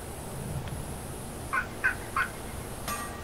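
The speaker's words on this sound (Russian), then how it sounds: "Кто там квакает, как будто какая-то птичка" Short bird croaks inside the fantasy game Ghost of a Tale, three or four quick calls in a row, moderately close, rising over a quiet ambient background.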